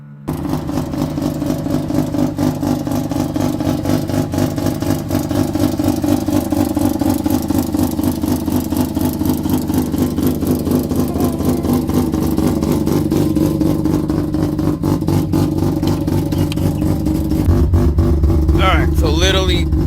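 A Mazda RX-7 FD rotary engine warms up, idling with a steady, lumpy drone close by, then revving briefly near the end while someone talks over it.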